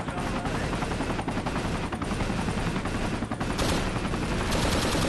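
Sustained automatic gunfire from a door gun in a Vietnam-era video game, loud and continuous rapid bursts with dense battle noise throughout.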